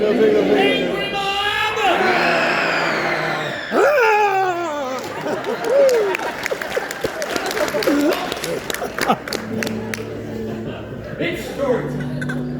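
Comedy show audience members imitating an angry mob along with wind and rain, a loud jumble of overlapping shouting, yelping and laughing voices that swell and break up over about twelve seconds.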